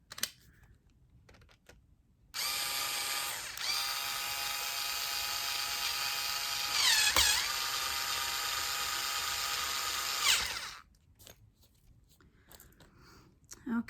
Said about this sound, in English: I'm gonna put my screw through. Switch my screwdriver head.